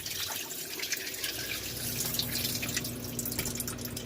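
Water draining from the drain tap of a freestanding KitchenAid ice maker during cleaning, a steady trickling and dripping stream that runs continuously and close by with no talk.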